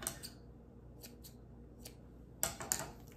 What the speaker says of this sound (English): I'm just gonna take my scissors and give him a little haircut.